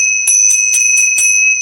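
Tibetan ting sha hand bells struck over and over in a quick, steady run of about six strikes, each adding to a bright, sustained high metallic ring that hangs continuously under the hits, close and loud.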